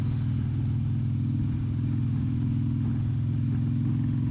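A car drives along a road, its steady low engine rumble and road noise continuous and even from inside the vehicle, with no talking.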